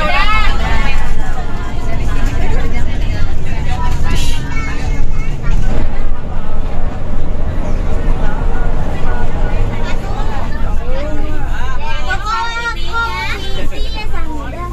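Inside a moving Tara Wisata tour bus on a school study trip from Subang to Taman Safari, a constant low engine and road rumble sits under loud, overlapping passenger chatter and voices.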